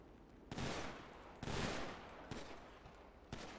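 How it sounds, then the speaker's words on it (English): Gunshots fired into the air in GTA V, several loud broadband bursts a second or so apart, each one echoing and fading, with no voices over them. "you can shoot in the air"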